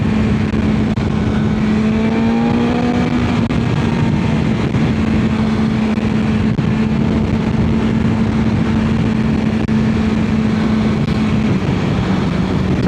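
A BMW S1000XR motorcycle engine with 170 bhp runs hard and loud throughout. Its revs climb and shift near the start, then hold a steady drone.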